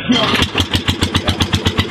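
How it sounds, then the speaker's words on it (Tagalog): A racing boat's engine starts and settles into a loud, rapid, regular putter, each beat evenly spaced as the motor runs close by. "Start na yung bangka."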